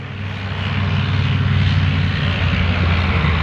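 A Dachs armoured engineer tank drives by at a Bundeswehr demonstration day, its heavy engine producing a steady, loud roar and low rumble that swells slightly as it passes.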